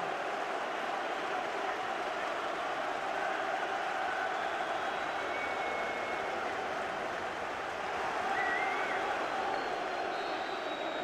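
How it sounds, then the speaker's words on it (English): Stadium crowd at Tynecastle before a Hearts v Hibernian derby applauding for a minute in memory of the late Hearts chairman Wallace Mercer, a steady dense wash of clapping and crowd noise throughout. "this game will be prefaced by a minute's applause in memory of the late chairman of Hearts"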